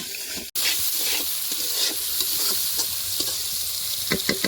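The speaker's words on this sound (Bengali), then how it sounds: "এদিকে কিন্তু মাংসের আলু হালকা হালকা সবে ভাজা হয়েছে" Potatoes for a meat curry fry in a pan with a loud, continuous sizzle, broken by repeated scraping stirs that grow busier toward the end. No one speaks.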